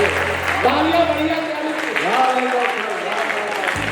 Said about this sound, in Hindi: तालियां बढ़िया